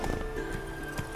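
Roach, a horse in The Witcher 3, gallops at a steady pace with dense, close hoof beats rolling over a low game backdrop, with no voices.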